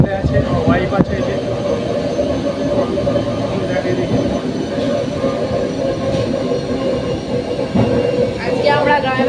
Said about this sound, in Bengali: ট্রেন চেঞ্জ করে আজকে আমোদপুরে এই ট্রেনটা উঠেছি